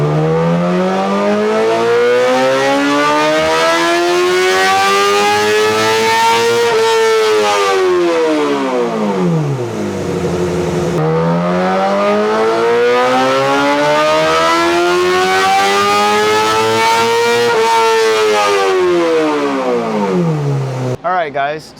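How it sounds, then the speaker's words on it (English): A 2008 Suzuki GSX-R750 sport bike revs hard on a dyno, with two long, loud sweeps that climb steadily to a high scream and then drop away, the second ending in a short cutoff. "so here is our baseline on the GSX-R750"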